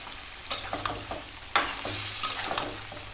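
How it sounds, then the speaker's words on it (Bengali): Duck meat is stir-fried in a pan, its soft sizzle broken by several sharp spatula strokes and scrapes at an uneven pace, close and fairly quiet. "মাংসটা আমি ভালোভাবে কষায় নিচ্ছি।"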